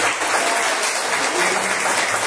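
Audience clapping at an anniversary event, dense and continuous, with an even, full sound and no talk over it.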